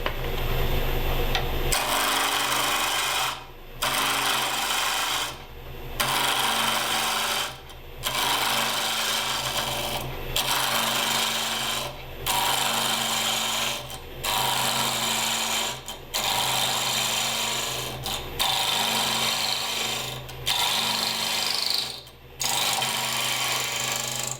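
Wood lathe running at about 1,000 rpm during finishing cuts, a steady close whir and hiss broken by regular brief dips as the tool comes off the spinning wood.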